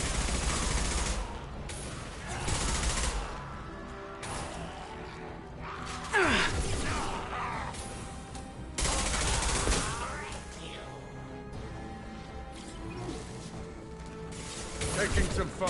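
Gunfire in the Mass Effect 2 video game comes in repeated loud bursts of rapid shots, separated by quieter stretches that carry mechanical clatter and a voice speaking.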